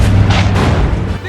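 Loud, close booms of Japanese anti-aircraft guns firing at American planes, a quick cluster of heavy blasts with a rumbling tail.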